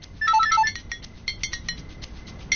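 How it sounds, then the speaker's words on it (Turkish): A phone ringing indoors in a home, a short bright electronic ringtone melody of repeated tones over a quiet room, with faint clinks around it. "Telefon."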